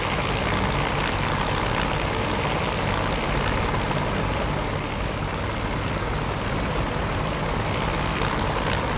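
A Bell 430 helicopter in flight, heavy rotor and turbine roar filling the whole span at a steady, loud, close level with no voices.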